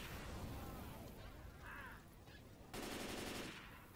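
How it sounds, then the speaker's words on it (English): A grenade launcher fires in a room in Left 4 Dead 2, with heavy blasts and rattling gunfire in a noisy, continuous barrage and a fresh loud burst near the end. "Maybe I shouldn't use the grenade launcher in this room."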